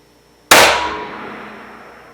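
A single sharp rifle shot fired while sighting in a Husqvarna scope on an Alberta turkey hunt, a loud close crack with a long fading outdoor tail.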